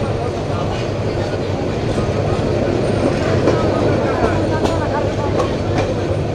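Aboard the Jayantika Express passing Kharchapur railway station, a loud, continuous rolling rumble carries faint wheel clatter and squeal, with muffled voices in the background.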